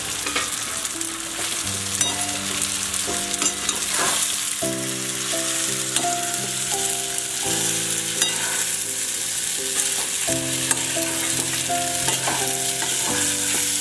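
Crumbled fried chhana sizzles in tomato masala in a pan, a continuous loud frying hiss with stirring scrapes throughout, while tonal background music plays underneath.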